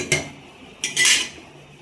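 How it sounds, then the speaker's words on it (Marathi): A spatula clinks twice against a pot while chakolya, dough pieces cooked in boiling liquid, are stirred; the sounds are short, sharp knocks with a quiet gap between them. "मधून उलटण्याच्या सहाय्याने अशा फिरवून घ्यायच्या"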